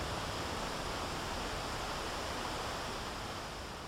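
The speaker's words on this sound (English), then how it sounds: "Standing in the surf, in the distance, commercial fishing boats, row after row of dark high waves surge toward us." Surf at Cape Lookout National Seashore, a steady, dense roar of breaking waves heard from within the surf, even and unbroken with no voices.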